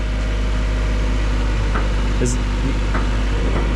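A skid steer engine runs steadily while the machine drives, a constant low droning hum with a few faint knocks and rattles over it.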